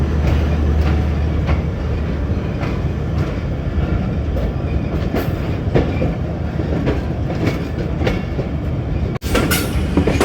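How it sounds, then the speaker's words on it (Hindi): The 128 Down Mehar Express rolls into Mehmood Kot station with a steady loud rumble, wheels clicking rhythmically over rail joints for the whole stretch, one sharp brief knock near the end. "महमूद कोट रेलवे स्टेशन पे अप्रोच बना रही है 128 डाउन मेहर एक्सप्रेस"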